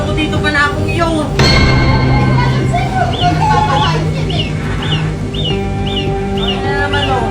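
A flock of chickens clucks and peeps in quick, repeated bursts close by. Voices chatter over them the whole time.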